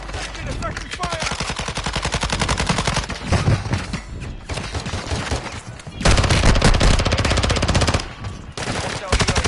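Heavy automatic gunfire in a first-person shooter video game roars in sustained, loud bursts of rapid shots with brief gaps between volleys, with voices faintly audible beneath the barrage.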